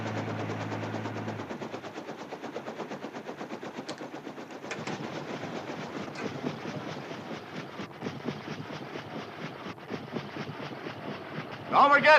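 A train passes with a steady clickety-clack of wheels over rail joints, rumbling at moderate level through the thin, narrow-band soundtrack of a 1960s TV sitcom.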